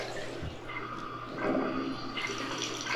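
A repaired Moen bathtub faucet runs water in a steady, close rush. The flow swells briefly partway through and there is no talk.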